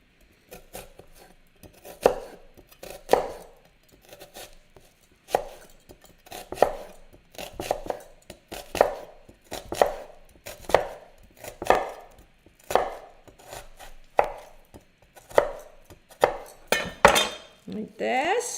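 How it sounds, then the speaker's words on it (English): A knife chops onion on a cutting board in crisp, regular knocks, roughly one or two a second. The chopping is close and clear, with a few faster strokes toward the end. "just roughly mince it"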